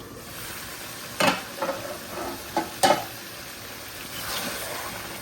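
Broiler chicken being stirred while it fries in a pan, several sharp spatula scrapes and knocks over a soft, continuous sizzle, close and with no talking.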